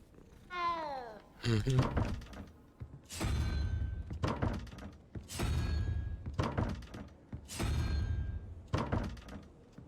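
Cat meows from the Hogwarts Legacy game come as a rising, tonal call near the start followed by several further loud drawn-out meows at regular intervals, each broken by short gaps, with a dull thump mixed in.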